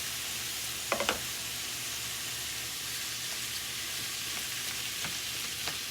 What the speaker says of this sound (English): add in our peppers and onions and let this cook along with our meat as well